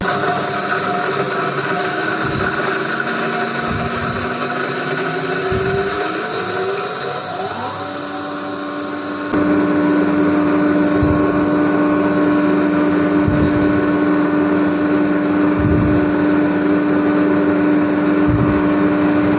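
A home atta chakki flour mill motor starts up after its power supply is connected, a steady mechanical hum with a rising whine that settles into a constant drone, with periodic low thumps and clatter close by.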